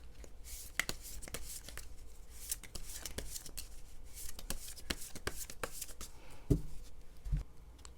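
Tarot cards are shuffled and drawn by hand, with soft rustling and a string of sharp card snaps and flicks close up, and a couple of louder taps toward the end.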